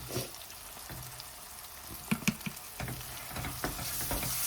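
Chili powder and coriander powder stirred into a hot pan for a fish curry, with soft sizzling under scattered scraping and clinking of a spoon against the pan, quiet and close.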